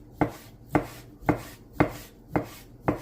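A knife cuts thick strips of pork on a cutting board, six evenly spaced chops about half a second apart, close and crisp with nothing else heard.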